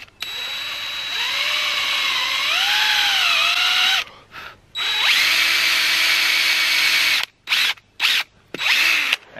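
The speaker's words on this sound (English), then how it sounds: "try to make sure we don't drill right next to last year's hole" A power drill bores a tap hole into a maple tree in deep snow, its motor whining steadily and shifting pitch under load, then stopping and restarting in short bursts at the end.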